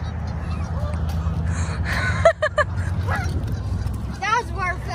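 A startled goose lets out a few sharp honks, loud and close, mixed with a gasp and brief voices in an outdoor setting.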